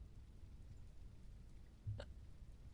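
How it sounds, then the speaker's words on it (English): A single quiet hiccup from a character in the video game Quarantine Zone: The Last Check, a brief sharp catch over a low steady background hum. "Yep, you got hiccups."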